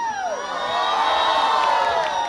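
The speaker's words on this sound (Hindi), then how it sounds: "अब मैं चाहता हूं पहले वो लोग चिल्ला के दिखाएंगे" Wedding guests shout and cheer together at a celebration, a loud sustained mix of whoops and yells from a crowd filling the room throughout.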